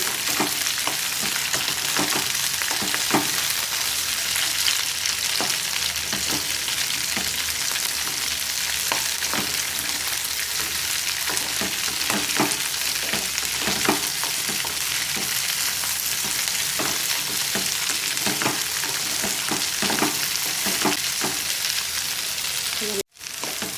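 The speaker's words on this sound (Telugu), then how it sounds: "ఇలా బెండకాయ ముక్కలు వేసుకొని గంటతో ఒకసారి బాగా మిక్స్ చేసుకోవాలి." Okra pieces frying in a hot pan, a continuous loud sizzle broken by regular scraping taps as a spoon stirs and turns them, running unbroken until an abrupt stop near the end.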